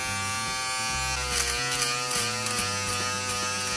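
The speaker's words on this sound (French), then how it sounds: "là on entend bien que le rasoir électrique en enlève encore" A Wahl electric finishing shaver runs steadily across a beard, a loud close buzzing drone with crackling bursts as it catches and trims stubble. No one speaks.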